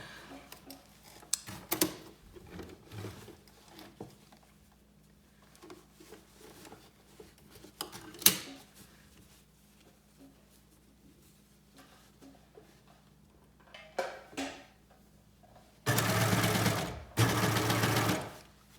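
Serger stitching a side seam up toward the shoulder seam, with its blade disengaged: soft handling taps and rustles give way to two loud, fast bursts of machine whirring near the end.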